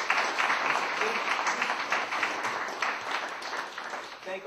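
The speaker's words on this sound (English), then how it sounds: "If you could please give them a round of applause." Sustained applause from an evening audience thanking panel guests after a discussion on U.S. primaries, caucuses and conventions; dense, steady clapping fills the whole stretch with a faint voice now and then.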